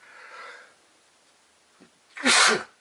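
A soft intake of breath, a brief pause, then one sharp, loud sneeze bursts out close by.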